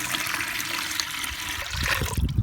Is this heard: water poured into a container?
yes